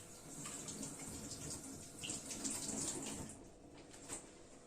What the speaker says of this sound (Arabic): اغسل ايديا.